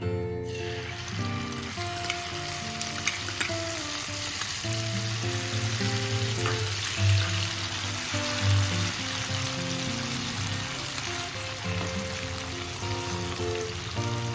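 Steady loud sizzling of tomato paste frying in hot oil for sev usal, a continuous crackling hiss with no voices.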